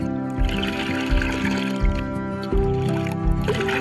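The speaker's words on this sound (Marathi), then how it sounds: "मी तिन्ही औषधं मिक्स केलं या ठिकाणी तर जरा पाणी आता या वर खाली ढवळून घ्यायचं" Water holding three mixed medicines, prepared as a drench for jackfruit trees, is stirred up and down in a bucket: a steady sloshing and gurgling churn with rhythmic surges, close and fairly loud.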